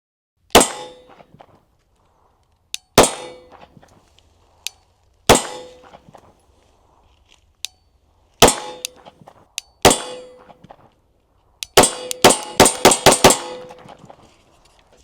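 Pistol shots from a Shadow Systems handgun ring off a painted steel silhouette plate target outdoors, sharp metallic clangs spaced a few seconds apart, then a rapid string of hits near the end, loud and without talk.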